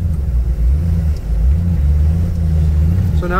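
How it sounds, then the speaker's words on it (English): A GMC Yukon Denali XL off-road engine drones loud and close inside the cab, its revs rising and falling in uneven surges, with a voice briefly heard near the end. "The RPM surging is partly me, partly the truck."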